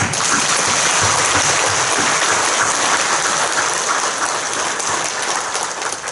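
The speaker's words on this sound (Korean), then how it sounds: "하나님께 우리가 박수로 영광을 올려도 될 것 같아요" A church congregation applauds at a 110th-anniversary service, a loud, even wash of many hands clapping continuously with no pauses and no voices.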